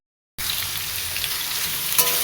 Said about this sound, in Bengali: আলুগুলো ভালো করে ভাজবো।